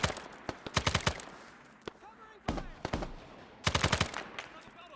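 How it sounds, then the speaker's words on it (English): Double-barrel shotgun fire in the Vietnam War video game SOG, shown as bursts of rapid, sharp gunshots in quick clusters, separated by quieter gaps with a few isolated single shots. "Got friendlies using the double barrel shotgun down there."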